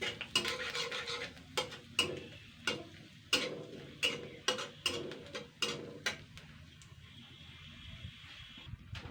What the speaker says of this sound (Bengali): ফোড়নের জন্য আমি 3টে শুকনো লঙ্কা আর 1 চামচ জিরে বাটা দিচ্ছি।